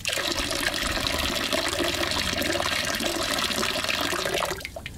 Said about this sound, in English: I'm pouring out the clay water nice and slow